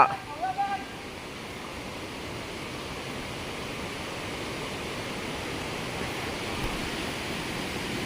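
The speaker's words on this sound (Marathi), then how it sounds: "हा इकडे पण धबधबा आहे छोटासा व्हाळीचा" A small waterfall in a stream rushes with steady, broadband white water that holds constant throughout, with a brief outdoor sound at the start.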